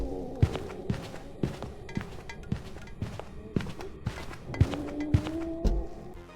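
Footsteps of the Raiju ghost hunting in the horror game Phasmophobia, a steady series of heavy thuds at an even walking pace, moderately loud with a low droning background.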